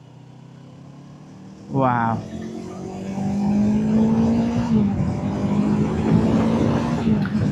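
A Yamaha R3 motorcycle engine revs hard close by, a loud droning whine that climbs steadily in pitch and holds at high RPM. A voice briefly speaks near the start.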